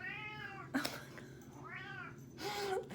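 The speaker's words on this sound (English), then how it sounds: "This cat." A cat meows twice, close by, with short bumps and thuds in between over a low steady background hum.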